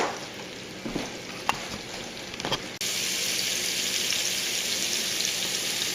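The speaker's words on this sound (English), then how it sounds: "get this garlic good and warm, and we're going to toast it a little bit" Garlic fries and toasts in a pan for a curry, with light clinks over a faint sizzle before a louder, steady hiss rises abruptly about halfway and continues.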